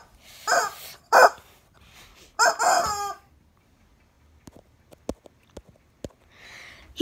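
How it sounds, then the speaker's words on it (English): A pink chicken clucking in short loud bursts, then sparse sharp clicks and taps in a quiet room, with a faint murmur near the end. "This is Pink Chicken, dude"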